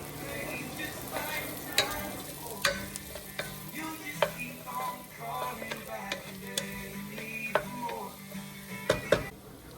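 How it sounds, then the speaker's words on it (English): Onion cooking in melted butter in a pot, stirred with a spoon: steady soft sizzling under repeated scraping and tapping strokes against the pan, close and moderately loud, with faint talking in the background. "Then add in your onion and mix it around till it's nicely coated in the butter."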